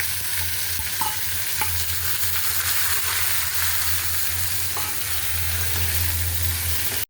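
Leafy greens frying with onion and chopped garlic in a pan, a loud, steady sizzle and hiss, close up and continuous, with occasional stirring scrapes and no voices.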